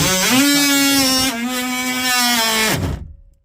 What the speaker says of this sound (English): Notice that I use an oscillating tool.